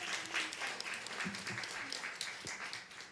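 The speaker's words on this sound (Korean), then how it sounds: "우리 한번 하나님께 박수 한번 영광 돌립시다." Church congregation clapping together after a pastor's call to praise God, a dense wash of many hands at moderate distance, steady throughout with a few low voices beneath.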